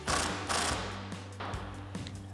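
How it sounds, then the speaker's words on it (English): A 19 millimeter socket ratchet tightens a nut on a lock washer while a 2021-2023 F-150 steel front bumper is mounted, with a few close, sharp clicking strokes in a quiet space. "tighten it down with a 19 millimeter socket"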